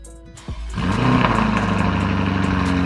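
A Lamborghini Urus engine turns over and settles into a loud, steady idle with a low throbbing hum. The sound is close and continuous with no talking.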